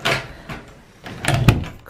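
An indoor door at home is pushed shut: a quick rattle and scrape, a pause, then a cluster of knocks ending in a solid thud, close and fairly loud.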